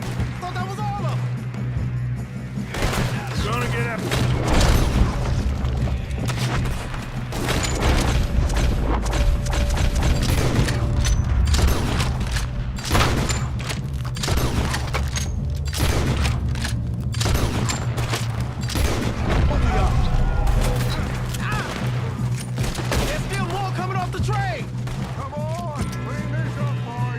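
Gunfire in Red Dead, with repeated rifle and pistol shots cracking irregularly throughout a long firefight, some close and loud, over a steady low hum with voices talking between shots.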